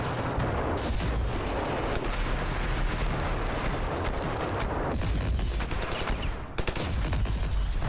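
Dense, loud gunfire in the Ravenfield video game with modern vehicle mods, rapid automatic bursts overlapping with heavier booming shots, sustained without pause and briefly dipping near the end.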